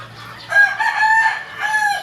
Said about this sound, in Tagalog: hindi po maiwasan sa manok ang nag-aaway sila, minsan nagtutukaan lalo sa pagkain